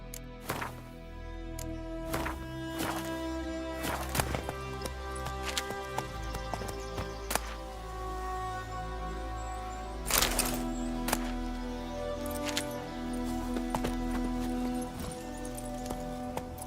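Roach the horse moves along at a steady gait, hooves clip-clopping in a repeated rhythm mixed with game music and ambient tones, with a few sharper louder hoof strikes standing out.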